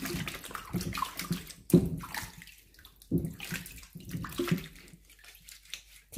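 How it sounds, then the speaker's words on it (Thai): Freshly harvested beetroot being washed in water to remove soil, with continuous splashing and sloshing and intermittent louder swishes as the roots are rubbed and moved. "ตัดตรงนี้ให้สะอาดค่ะแล้วก็ล้างน้ำสัก 2-3 น้ำเนาะเอาดินออกให้หมดเลยค่ะ"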